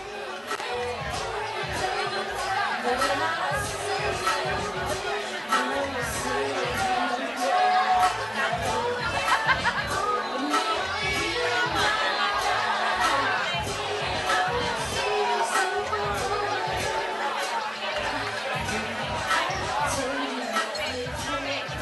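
Indoor crowd at a boxing match between Connor McCormack and George Beach, a constant low murmur of chatter with occasional shouts and cheers, with a commentator talking throughout over the hubbub.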